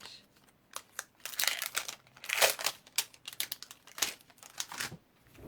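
Paper envelope from a Paper Pumpkin craft kit being opened and crinkled close up, with bursts of crisp rustling and crackling spread in an irregular rhythm and no talking.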